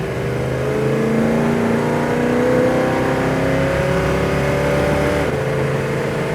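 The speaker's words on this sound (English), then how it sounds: "There's your first shift right there. Into second." A 1970 Dodge Super Bee with a 426 Hemi V8 accelerates on the road, its loud, steady engine drone climbing in pitch, then dropping sharply with a gear shift into second before pulling again.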